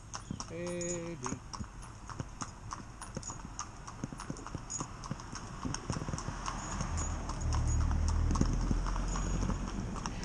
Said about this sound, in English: The rhythm of the hooves as they touch the ground.